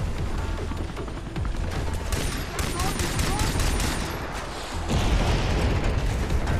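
Dense gunfire and explosions in the video game Far Cry 3, loud and continuous bursts of shots over a heavy rumble throughout.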